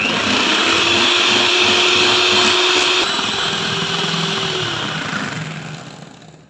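An ice cream mixture being whipped with an electric mixer until it doubles in volume, a loud steady motor whine close by that holds for several seconds, then slows and fades out as it switches off.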